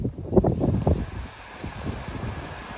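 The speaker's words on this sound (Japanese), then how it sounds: "波の音がいい感じでね" Ocean waves wash ashore at the seaside in Tateyama, Chiba, with a soft, irregular surf roll and some wind noise on the microphone. The surf is loud at first, then eases to a quieter, steady wash.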